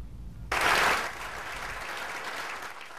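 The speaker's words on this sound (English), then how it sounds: "About 100 Meg Whitman supporters applaud her ideas to create jobs at a campaign stop in Lemoore" About a hundred supporters applauding at a Meg Whitman campaign stop in Lemoore, clapping bursting in suddenly and loudly, then settling into a steady, slightly softer round of applause.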